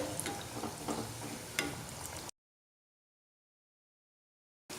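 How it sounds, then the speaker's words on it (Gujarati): Vegetable cutlets shallow-frying in a pan over a medium flame, a crackling sizzle with small pops for about two seconds, then silence before the sizzle briefly returns. "મીડિયમ ગેસ પર તળીને તૈયાર કરીએ કટલેટ"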